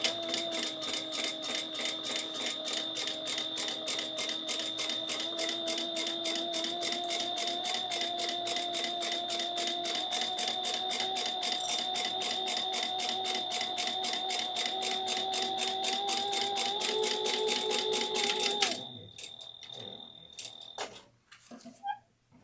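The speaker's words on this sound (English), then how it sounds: "we're going to sew across according to the seam allowance that is provided in the pattern" A sewing machine runs steadily stitching across the seam of a yarn project bag, a rapid even needle rhythm with a constant whine, then stops abruptly near the end, leaving a few scattered handling sounds.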